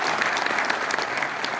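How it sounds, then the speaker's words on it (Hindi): Loud, sustained audience applause for the chairman of an NGO, a dense even wash of many hands clapping at once without pause. "एक बार जोरदार तालियां उनके लिए"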